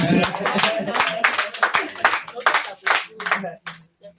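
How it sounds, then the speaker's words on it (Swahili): An audience at an online agroforestry training session claps in quick, uneven bursts that fade out, with people talking over the applause. "Makofi."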